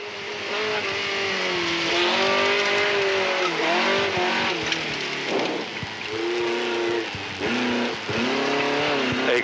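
An Alpine Berlinette rally car drives hairpin bends on the Tour Auto, its loud engine revving and changing pitch continuously as it slides through the turns, with brief drops between gear changes.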